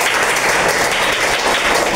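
An audience in a Hindi-language classroom quiz bursts into steady, loud applause for a correct answer about Rigvedic gods, a dense wash of clapping filling the short span.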